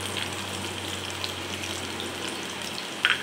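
Chopped onion, garlic and green chili sizzle in hot oil in a pan, a soft, steady hiss throughout with a small clatter near the end.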